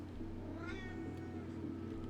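A cat meows once, close and clear, over a steady low background hum.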